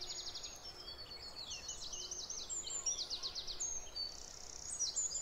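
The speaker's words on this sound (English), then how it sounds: "And now two blackbirds having a bit of a fight." Two blackbirds scuffle at dawn, giving sharp, rapid chattering alarm calls in repeated bursts, faint and somewhat distant against quiet outdoor ambience.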